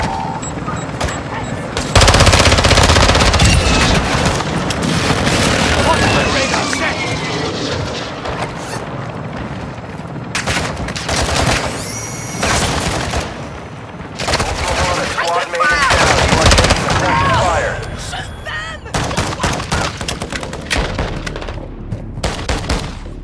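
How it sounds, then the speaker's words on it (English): Gunfire in Call of Duty Warzone on Ashika Island: loud rapid bursts and sustained automatic fire mixed with aircraft engine drone, with intermittent in-game radio voices over the shooting. "You are taking effective fire."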